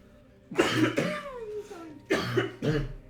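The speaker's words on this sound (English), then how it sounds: "I'm going to cough." Two bursts of coughing close by, each a pair of rough, hacking coughs separated by a short pause.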